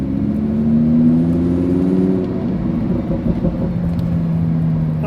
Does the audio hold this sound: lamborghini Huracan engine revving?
yes